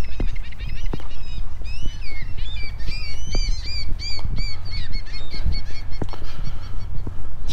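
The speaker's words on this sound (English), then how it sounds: "seagulls are noisy this morning." Loud, raucous morning seagull squawks repeat over steady low outdoor rumble, several birds calling close by in overlapping bursts, on a walking path between Anfield and Goodison in Liverpool.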